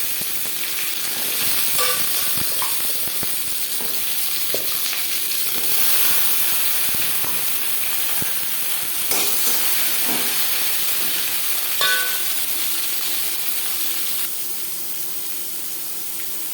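Papaya pieces fry in hot oil in a kadai tempered with whole cumin seeds, giving a steady, fairly loud sizzling hiss that runs throughout with a few faint clinks and no talk.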